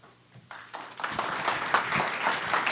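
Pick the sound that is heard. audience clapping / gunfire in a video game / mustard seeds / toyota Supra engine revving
audience clapping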